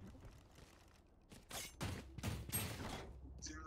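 Bursts of gunfire from a first-person shooter video game, several short volleys firing in quick succession at moderate loudness, with a faint voice underneath.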